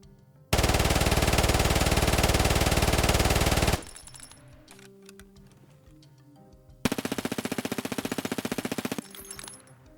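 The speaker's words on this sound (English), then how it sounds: "Let's take a look at the recoil and kick of these guns." Rapid automatic gunfire from Vector, MP9 and MP7 submachine guns in Escape from Tarkov: two loud, sustained bursts, the first about three seconds long and the second about two, separated by a quieter stretch of faint clicks and handling sounds.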